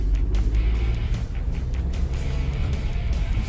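Ford Bronco driving offroad in 4x4 through mud, field and forest, a loud steady engine rumble with rough, bumpy wind and chassis noise throughout and no voices.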